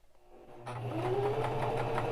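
A bernette Sew&go 1 sewing machine starts up after a quiet moment and runs a rapid, steady stitching whir while sewing a bar tack, close and continuous to the end.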